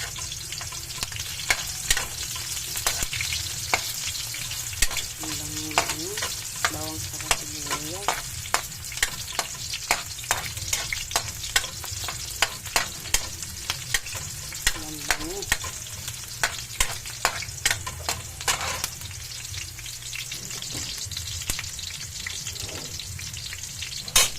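Onions frying in a pan while being stirred, a continuous crackling sizzle broken by frequent sharp scrapes and clicks of the utensil, close up and without speech.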